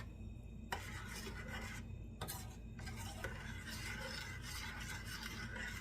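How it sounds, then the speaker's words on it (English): Spoon stirring and scraping oats in a cooking pot, giving gritty rasping strokes with a few clicks on the metal, close and steady under a low background hum. "I'm going to give it a little stir to get it incorporated."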